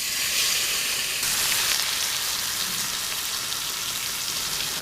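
Chicken sizzles in a hot pan at a bush camp by a river, a dense, steady crackling hiss close up that holds unbroken throughout, without talk.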